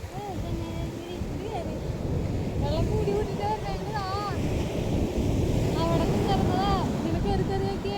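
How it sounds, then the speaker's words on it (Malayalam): Surf rolls in steadily, washing over feet, with gusty wind buffeting the microphone, while people talk nearby over the water's rush. "വെള്ളം ഇങ്ങനെ വന്ന് തഴുകി ഇങ്ങനെ കൊണ്ടുപോകും"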